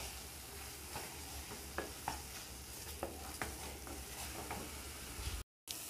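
Banana sondesh mixture with powdered milk stirred in a pan, a soft steady hiss broken by light, irregular scraping and tapping strokes, then a sudden brief cut to silence near the end.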